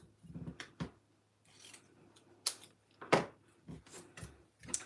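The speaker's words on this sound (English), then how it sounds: "Then we're gonna take this one and we're gonna cut it in half." Scissors cut a piece of cardstock in half during a paper-craft stamping session, with a few quick, close snips and rustles of paper separated by short quiet gaps, no talking.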